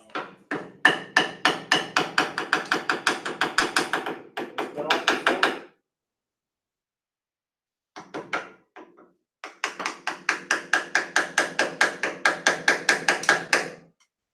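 Steady rapid hammer blows ringing out in two long runs separated by a pause with a few scattered knocks, close and fairly loud.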